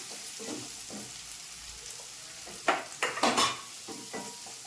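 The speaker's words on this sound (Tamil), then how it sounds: "ஒரு கைப்பிடி அளவு சின்ன வெங்காயம் போட்டுக்கிறேன் அதுவும் போட்டு வதக்கிடலாம்" Small onions (shallots) sauté in a pan for crab gravy, giving a soft steady sizzle, with a few close scraping stirs of a spoon against the pan partway through.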